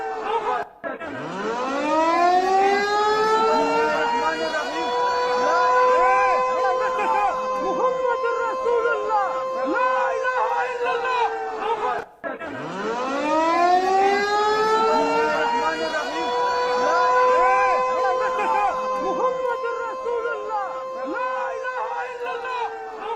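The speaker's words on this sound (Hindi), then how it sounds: "सुनिए जरा इस सायरन को।" A civil defense air raid siren in Sialkot, Pakistan wails loudly in two long cycles, rising and falling in pitch, with faint crowd noise beneath.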